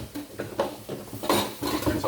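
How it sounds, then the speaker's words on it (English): A chopping board is rinsed and washed in a kitchen sink, with quiet, irregular knocks, scrapes and splashing water clattering in short bursts, close but low in level. "rinse off and wash my chopping board."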